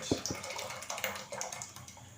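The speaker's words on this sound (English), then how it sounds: "Pour it inside the boiling water" A cassava and corn flour mix pours into a pot of boiling water, a soft, steady watery splashing and bubbling sound, close and quiet, with no talk.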